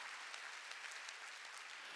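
Congregation applause at a Korean church's Wednesday worship service: steady, dense clapping from many hands, fairly loud and continuous, with no voices standing out.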